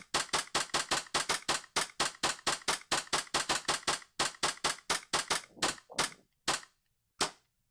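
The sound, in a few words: airsoft pistol firing a full magazine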